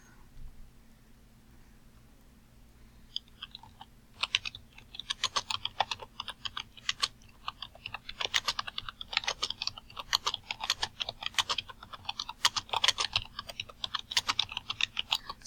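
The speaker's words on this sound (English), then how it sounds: "Sorry if the typing is getting annoying." Fast typing clatters on a computer keyboard, starting after a few quiet seconds and continuing in rapid irregular bursts of close key clicks to the end.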